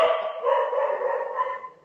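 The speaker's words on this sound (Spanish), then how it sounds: "no podemos escucharte por los perros" Several dogs bark together in a continuous, overlapping chorus at moderate volume. The barking fills the whole stretch and no voices are heard.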